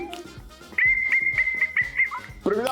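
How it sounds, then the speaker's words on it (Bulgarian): A small plastic whistle from a Temu package blown in several short, shrill bursts, close and loud, with a voice briefly heard at the end. "Имаме и свиркал."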